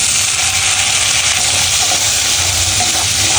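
Mushrooms fry in a pan with chili flakes and oregano, giving a loud, continuous sizzle with a steady hiss and no talking.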